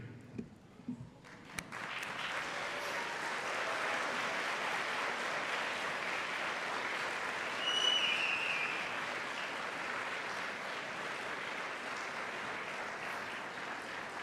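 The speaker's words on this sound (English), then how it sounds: "I would like the graduates to join me in a standing round of applause" Sustained standing applause from a large crowd at a university commencement ceremony swells after a few scattered claps and continues steadily, filling a big room.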